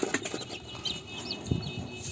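Chickens and chicks in a rooftop coop: quick wing flaps, soft clucks and thin high peeps scattered over a steady low background, with no talking.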